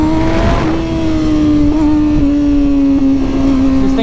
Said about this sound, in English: Listen to this first clip of the exhaust.